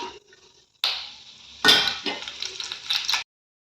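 Fennel seeds and curry leaves dropped into hot oil crackle and sizzle in sharp bursts, the noisy frying swelling loudly at close range before cutting off.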